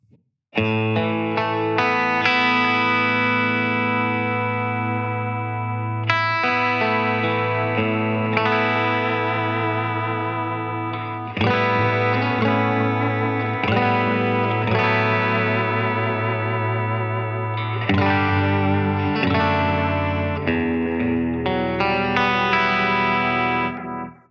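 A sustained distorted electric guitar plays long chords that swirl and wobble through a Wampler Metaverse modulated delay pedal, with echoes trailing each change.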